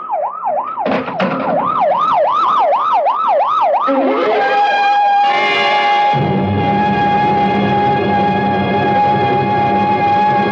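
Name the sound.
ambulance siren approaching in radio drama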